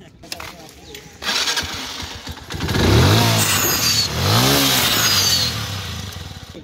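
A small motorbike engine starts close by after a few clicks, then revs up and down twice in rising and falling surges, with people talking around it.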